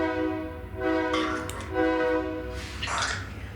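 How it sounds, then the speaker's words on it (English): A train rolls past nearby with a sustained, stacked-tone horn blowing across most of the stretch, rising and swelling in bursts over a steady rumble, outside an old mortuary building. "Just my luck that the train's going by right now."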